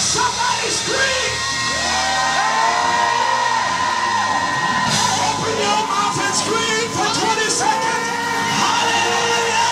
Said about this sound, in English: For 20 seconds, somebody scream.